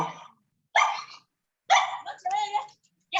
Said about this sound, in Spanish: no sé quién está con el micrófono encendido de su perrito